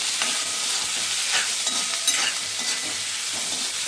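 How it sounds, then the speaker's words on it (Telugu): Onions sizzle steadily in hot oil in a pan, a dense continuous frying hiss with a few faint scrapes, close and fairly loud with no voices. "ఇప్పుడు మళ్ళీ పెనం పెట్టుకొని నూనె వేసేసుకుంటున్నాను. ఇప్పుడు ఉల్లిగడ్డలు వేసేస్తాను."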